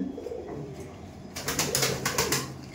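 Kabji pigeons in a loft coo and call, quiet at first and then livelier bursts of bird sound from about halfway through, close and unaccompanied by talk.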